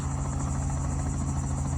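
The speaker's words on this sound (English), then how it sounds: "Oh, it's a helicopter." A loud, steady helicopter drone with a throbbing rotor hum over the lowlands of Ocracoke Island fills the whole moment, close and continuous.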